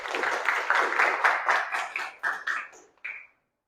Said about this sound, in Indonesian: beri tepuk tangan untuk Yohana Rusada.